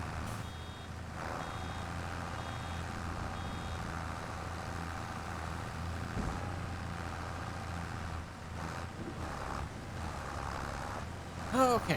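A tractor engine runs in Farming Simulator 25, a steady low drone with faint repeating reversing beeps early on and small rattles near the end, moderately quiet and continuous.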